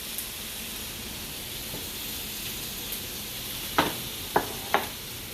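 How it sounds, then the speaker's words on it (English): Turkey sausage cooking in a pan gives a steady, soft frying sizzle and hiss throughout, with a few sharp clicks and taps near the end, no voices. "I'm going to start cooking my sausage"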